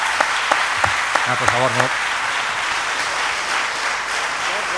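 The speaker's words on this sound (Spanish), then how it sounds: "Yo agradezco los aplausos" An audience at a talk claps steadily and fills the room with dense, even applause, while someone speaks briefly over it at the start.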